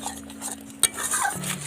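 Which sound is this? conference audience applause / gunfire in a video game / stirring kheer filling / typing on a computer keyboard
stirring kheer filling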